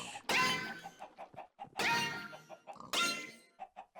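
Three loud, harsh squawking clucks from Minecraft chickens spaced about a second apart, with softer clucks in between, close and alone without talk.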